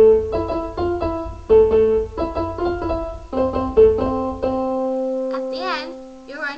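Piano plays a passage of a song, with repeated chords over a low bass line, clear and close; a brief sung or hummed melody line takes over near the end.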